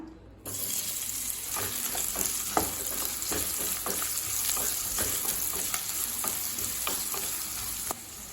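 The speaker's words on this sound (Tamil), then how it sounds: "கடாயில தேவையான அளவு எண்ணெய், இப்ப 2 வெங்காயத்தை சேர்த்துக்கலாம்." Steady sizzling of onions frying in hot oil in a wok, with intermittent scraping and stirring clicks, close and continuous.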